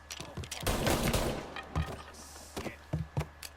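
Semi-automatic gun fired in Mafia Definitive Edition, a handful of sharp irregular shots with one longer burst of gunfire, mid-distance, among other game sounds.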